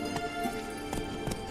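Horse galloping in The Witcher video game, a short run of soft rhythmic hoofbeats over steady background game ambience.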